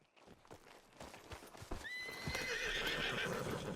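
Horse hooves clip-clopping and a loud whinny in the western video game Red Dead Redemption 2, with steady trotting hoofbeats throughout and a sustained, rising neigh over the second half.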